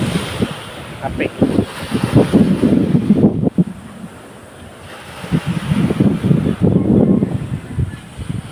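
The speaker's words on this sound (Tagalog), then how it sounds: "Malakas ang hangin." Strong coastal wind ahead of an approaching typhoon roars and buffets the microphone over crashing surf, surging in loud gusts with a brief lull in the middle; a voice is faintly present beneath the noise.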